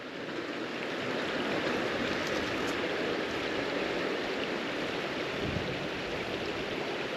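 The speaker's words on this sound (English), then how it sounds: "This is the river crossing I'm talking about." Water at a river crossing rushes in a steady, full-bodied wash that stays loud and even from start to finish, with no talk over it.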